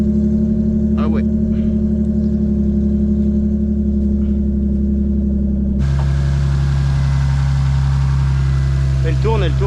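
A 1988 Toyota Supra MK3 engine with a full straight-pipe exhaust and no muffler idles steadily and loudly up close, its low rumble shifting in tone partway through, with people talking nearby.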